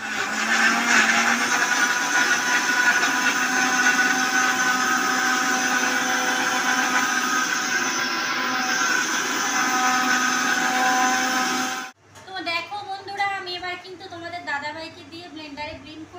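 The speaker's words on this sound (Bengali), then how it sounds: "এবার এটাকে কিন্তু ব্লেন্ডারে ব্লেন্ড করে নিয়ে তোমাদের সামনে আসছি।" An electric blender whirs loudly and steadily as it blends watermelon, a continuous motor drone that stops abruptly, followed by a voice talking.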